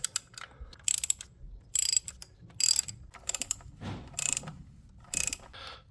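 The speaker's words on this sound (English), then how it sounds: "take these bolts on the bottom of the manifold out" Ratchet wrench removing 8mm bolts under the manifold of a Jeep Wrangler, close rapid clicking in short repeated bursts with brief pauses between strokes, no talking.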